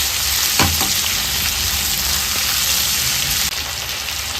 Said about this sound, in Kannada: ಒಂದು 2 ನಿಮಿಷ ಫ್ರೈ ಮಾಡ್ಕೊಳ್ಳೋಣ